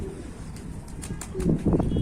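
Pigeons in a coop, soft cooing and wing flutters with a few brief flaps, close by, growing slightly louder toward the end.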